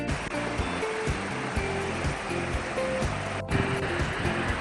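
Rushing water at Phrom Lok waterfall, a continuous broadband roar close by with faint voices and rustling mixed in beneath.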